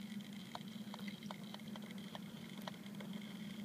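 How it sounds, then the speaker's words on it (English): Water boiling inside a V2 steam engine at the onset of nucleate boiling, a steady low hum with faint irregular crackles and pops scattered through a continuous noisy hiss. "it's cavitating, it's the onset of nuclear boiling"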